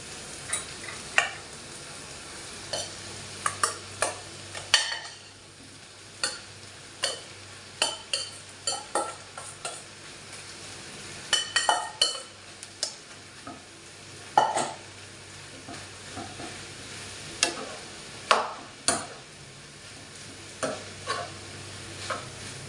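Cooked rice is stir-fried in a pan for chicken fried rice, with a steady sizzle broken by frequent sharp scrapes and clacks of a spatula, close and alone.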